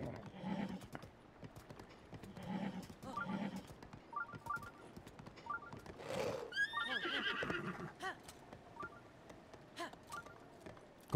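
Horse in the video game Zelda: Breath of the Wild, with clip-clop hooves and a short whinny near the middle, faint and set among game sounds and soft talk.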